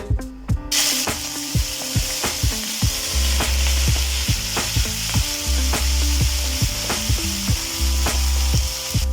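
Jigote meat filling for salteñas sears in very hot oil, a loud, dense, close sizzle overlaid by a steady series of sharp ticking and clicking knocks, with no speech.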